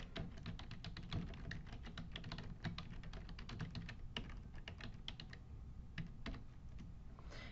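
Rapid clicking keystrokes on a computer keyboard while an email address is entered, a quiet, close, irregular stream of taps with no talking.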